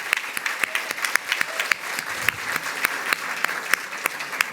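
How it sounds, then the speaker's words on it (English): Forum attendees give a round of applause welcoming Congresswoman Robin Kelly of the 2nd District, a steady crowd of clapping hands with a few sharper claps standing out, sustained throughout. "Please give her a round of applause."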